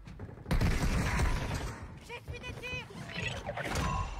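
Gunfire in the Resurgence video game, with bursts of shots and mechanical clatter of moderate loudness mixed with game effects and a person talking over them.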